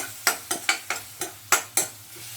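Turmeric, coriander-cumin powder and homemade masala sautéed in a pan for a drumstick and potato dish, heard as about eight sharp, rhythmic scraping strokes of a spoon over a low, steady hum, with no talk.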